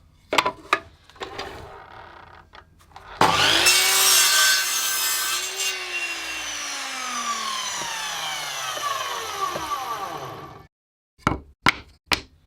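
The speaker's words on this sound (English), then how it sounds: "so I'm going to use my track saw or my miter saw" Power saw, either a track saw or miter saw, cutting through wood strips for clamping cauls: a few knocks, then one loud cut of about seven seconds whose pitch falls as it winds down, followed by several sharp knocks.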